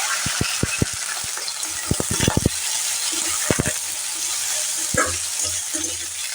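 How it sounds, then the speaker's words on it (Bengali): Sliced potatoes fry in hot oil over a high flame, a continuous sizzle broken by sharp clustered clacks of stirring against the pan, close and fairly loud. "আলুগুলোকে ছেড়ে একটু লাল লাল করে হাই ফ্লেমে ভেজে নেব"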